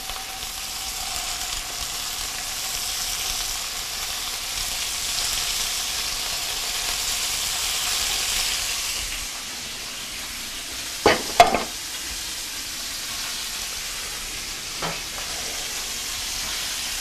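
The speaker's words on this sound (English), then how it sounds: "You want these to sizzle." Chicken and steak sizzle steadily in a pan over medium-high heat, a continuous hissing fry for several seconds that then quiets, with a few brief clanks of utensils near the end.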